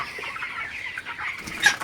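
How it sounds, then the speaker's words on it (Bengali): A flock of 21-day-old broiler chickens at feeding time, a dense chorus of overlapping excited clucks and chirps, fairly close and continuous, with no talk. "খাবার দেওয়ার পরে একদম মুরগিগুলো কিন্তু একদম পাগল হয়ে গেছিল"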